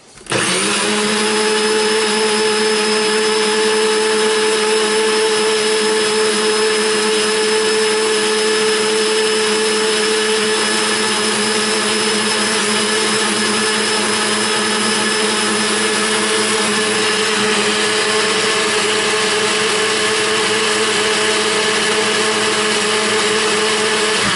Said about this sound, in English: We're going to mix this kind of until we see the oil kind of mixing with the soy milk, right?